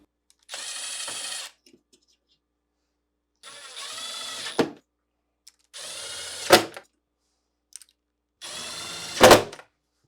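A power screwdriver drives screws into a GE refrigerator's middle cover assembly in four separate whirring bursts, each ending with a sharp click as the screw seats, separated by silence.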